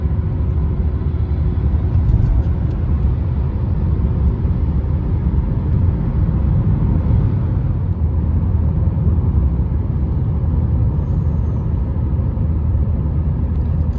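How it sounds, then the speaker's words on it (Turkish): A steady low rumble of a Citroen C3 with a BMW engine driving, heard from inside, with a constant hiss of wind noise over it. "Araba çok kadife gibi gidiyor. Motor sesin çok az. Rüzgar sesleri var."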